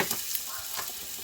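Chopped onion hitting a hot pan for pork curry, a brief close, steady sizzle with crackling bursts, no voices.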